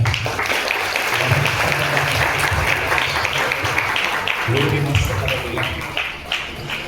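A church congregation claps during a sermon, a continuous wash of applause with voices murmuring and talking underneath, tapering slightly at the close.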